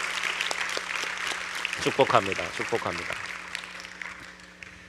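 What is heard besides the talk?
congregation applause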